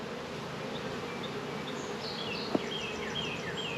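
Honey bees buzzing in a swarming hive as it is opened for inspection, a dense steady drone of many bees, close and even, with a single sharp tap partway through and no talk.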